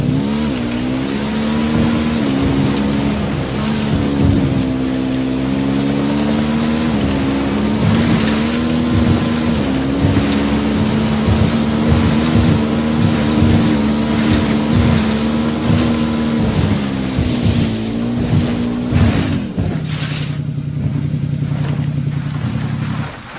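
Motorbike engine from Ghost Recon Wildlands, a steady loud drone with wavering revs that rise and dip as the bike rides on, shifting to a lower idle-like hum near the end; no talking.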